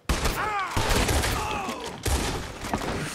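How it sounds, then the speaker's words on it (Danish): Gunfire in the video game Red Dead Redemption 2, a quick burst of loud close shots with booming thuds, while a voice groans and shouts over it. "Nu bliver han skudt."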